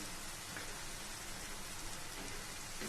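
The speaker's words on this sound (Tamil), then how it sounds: "இப்போ நம்ம சிக்கன் நல்லா வதங்கிட்டு இருக்காரு" Chicken sautéing in a pan for a Tamil-style Chinthamani chicken, a steady dense sizzle like rain filling the whole clip at an even level, with no talk.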